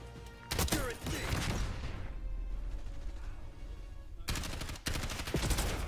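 Rapid gunfire in a first-person shooter video game, loud bursts of automatic shots with a cracking impact, a brief lull of rumbling ambience, then another dense burst.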